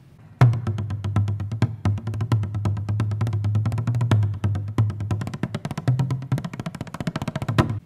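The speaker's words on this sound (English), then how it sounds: "It's an Irish drum. And the bodhrán looks and sounds like this." Bodhrán, the Irish frame drum, played in a lively rhythm with deep resonant booming strokes and crisp rim taps; close and moderately loud, with no talking.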